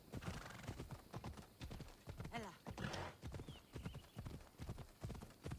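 A horse gallops in Assassin's Creed Odyssey, its hooves beating a quick, close, steady clip-clop throughout, with a sharp neigh midway and a faint voice in the background.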